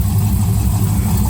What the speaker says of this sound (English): Oh, an exhaust leak, yay.